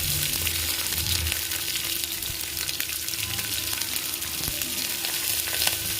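Sliced big onions with curry leaves sizzle and fry steadily in a pan for a potato tomato kurma, a continuous close crackle with occasional stirring scrapes and no talk.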